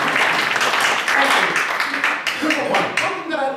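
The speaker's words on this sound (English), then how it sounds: "I'm expecting an applause now." An audience at a speech competition gives a short burst of clapping that thins out as a voice takes over and continues talking.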